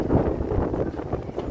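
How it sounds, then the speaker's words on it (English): Strong wind buffets the microphone on a Manhattan street along 10th Avenue near the Hudson, a steady loud broadband roar with gusting swells throughout. "This is really windy."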